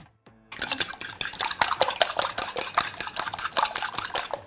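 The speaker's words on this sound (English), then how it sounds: "Take a fork or a whisk and beat it up." Eggs beaten with a fork or whisk for a veggie frittata: a brisk, steady run of rapid clinking strokes against a bowl, close and fairly loud, with no talking.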